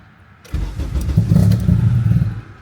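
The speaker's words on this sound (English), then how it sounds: "we'll try to start this car" A car fitted with a standalone ECU cranks and catches, its engine firing up loudly after a brief quiet start and settling into a steady, rough idle close by.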